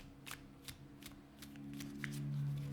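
A tarot deck is shuffled close by in a quiet room, with several crisp riffling bursts spaced through a couple of seconds under a low steady hum.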